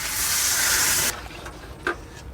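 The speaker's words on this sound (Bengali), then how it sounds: "মশলাটা ভাজা হয়ে গেছে, জলটা দিয়ে দেবো।" Water is poured into a pan of frying spice paste for a vegetarian potato and drumstick-stalk curry, making a loud close rush of hissing steam and splashing for about a second, then fading to a low bubbling simmer with a brief clink.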